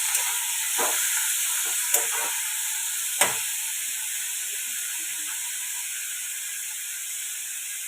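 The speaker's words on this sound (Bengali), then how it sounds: "পেঁয়াজটা একটু ভাজা ভাজা করবো" Onion sizzles in hot oil in a pan, a steady close hiss of frying with a few light stirring clinks and scrapes, no voices.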